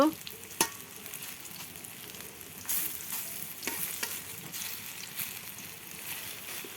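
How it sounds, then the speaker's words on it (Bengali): Prawn fritters (chingri bora) fry in a pan with a steady low sizzle, broken by occasional scrapes and clinks of a spatula stirring. "আমার বড়া বাজারে লাল লাল করে ভাজে নেব"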